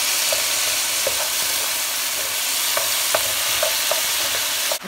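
Garlic, onion, ginger and tomato sautéing in hot oil for sarsiadong zucchini, a steady close sizzle and hiss with occasional small pops and utensil clinks, no talking.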